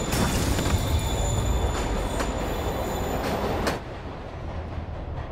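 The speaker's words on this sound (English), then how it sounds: "Train moving." A moving train in the video game Marvel's Spider-Man rumbles loudly and steadily with squealing wheel tones, then drops to a lower, duller roar partway through; no one speaks.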